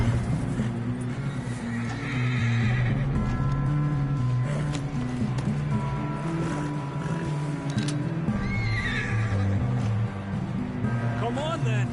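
A horse in Red Dead Redemption 2 moves along with rhythmic hoof clip-clops and snorts under constant game noise, while voices talk over it throughout.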